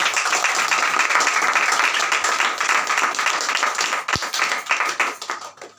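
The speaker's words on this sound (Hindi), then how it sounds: "उस बादशाह की जोर नाल ताली बजाओ" A church congregation claps together loudly and continuously, a dense round that stays strong before thinning and fading toward the end, with one sharp low thump partway through.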